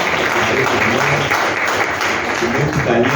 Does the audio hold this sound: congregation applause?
yes